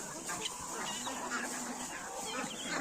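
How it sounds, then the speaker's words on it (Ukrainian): Legbar chickens clucking in a farmyard, soft scattered clucks and calls at close range over steady background noise, with a faint voice now and then. "Лігбарчики тут мої бігають."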